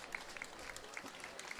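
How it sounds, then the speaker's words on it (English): Spectators at the Bristol, Rhode Island Fourth of July parade applaud: faint, distant scattered clapping over outdoor crowd noise, with light recurring tonal chirps. "can hear the applause there picking up."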